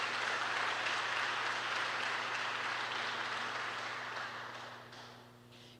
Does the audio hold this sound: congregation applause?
yes